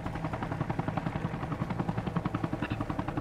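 A helicopter's rotor chops in a fast, even rhythm in the video game ARMA Reforger, fairly faint and continuous, with no voices.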